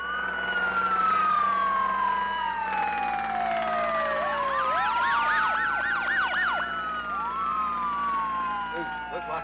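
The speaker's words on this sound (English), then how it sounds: "Davis, what's all them sirens?" Several emergency sirens wail and yelp at once, rising and falling in overlapping sweeps, loud and close, with a steady hum beneath.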